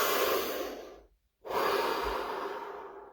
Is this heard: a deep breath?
yes